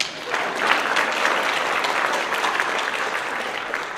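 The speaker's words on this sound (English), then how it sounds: "Can we give some applause?" An audience at a celebration event applauds steadily for about four seconds, a dense, continuous wash of many hands clapping at close range, with no one speaking.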